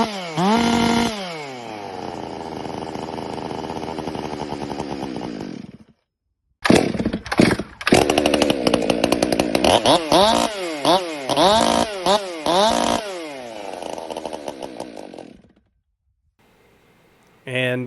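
A ported Stihl MS400 chainsaw revs hard in long sustained bursts with rising and falling pitch, cutting out briefly before roaring again through several throttle blips, then restarting faintly at the end.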